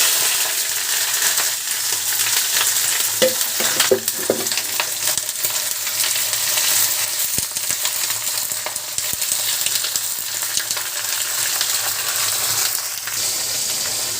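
Marinated fish sizzles in oil in a pan for a mixed-fish chorchori, a dense, continuous close frying hiss holding steady throughout, with a few faint clinks early on and no speech.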